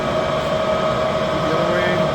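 A Standard Modern 1640 16" x 40" tool room lathe runs in low range and reverses on the fly, making a loud, steady mechanical drone with a constant tonal whine throughout.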